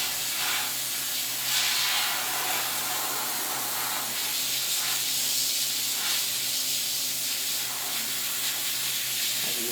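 An airbrush misting paint onto a Predator head gives a continuous soft, airy hiss that holds steady throughout at moderate level, with no voices.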